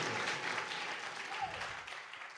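A church congregation applauds and cheers during a French-language worship service, a steady wash of clapping that fills the whole clip without a break.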